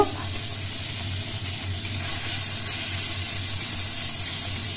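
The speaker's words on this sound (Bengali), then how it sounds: "তেল গরম হয়ে যাওয়ার পর মৌরলা মাছগুলো একটি কড়াইয়ে ছেড়ে দিলাম" Small mourala fish seasoned with salt and turmeric frying in hot oil in a wok, a steady, dense sizzle and hiss that holds evenly throughout without pause.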